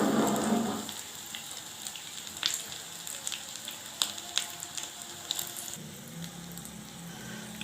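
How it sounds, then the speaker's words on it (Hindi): A sandwich frying gently over low heat in a pan gives a soft, steady sizzle with scattered light crackles and pops, fairly quiet and continuous with no talking. "फ्राई करेंगे और फिर हम इसको बिल्कुल हल्के हाथों से पलट देंगे"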